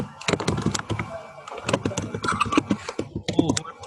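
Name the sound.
typing on a computer keyboard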